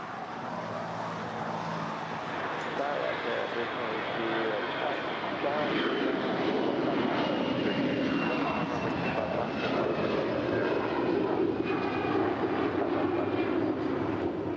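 An American Airlines jet rolling down runway 25 right at LAX for takeoff, a steady loud engine roar that builds slightly over time, with faint talk beneath it.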